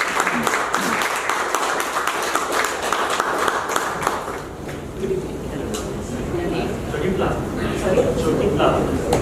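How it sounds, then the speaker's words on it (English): An audience at a Toastmasters demo meeting applauds for a table topics speaker, a steady patter of many hands under and around a speaking voice throughout. "Please have a big round of applause for this"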